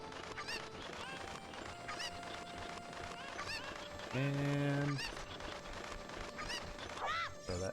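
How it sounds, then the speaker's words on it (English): Cuccos in the video game Ocarina of Time clucking and squawking, with one loud, sustained honking cry in the middle, set against steady background game noise, with a brief spoken word. "throw that chicken in there"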